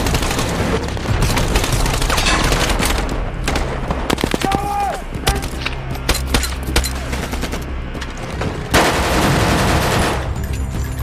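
Rapid bursts of gunfire and booming blasts in a loud battle scene from the 2019 film Mosul, with SWAT fighters, dense and continuous, with a brief whistling tone in the middle.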